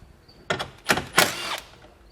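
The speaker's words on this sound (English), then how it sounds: "Beneath the covers, you'll find 2 bolts, and we're going to remove those with a 10mm socket." A ratchet with a 10mm socket clicks while loosening taillight bolts behind the covers on a 2014 Chevrolet, three short bursts of sharp ratcheting close to the microphone with quiet gaps between them.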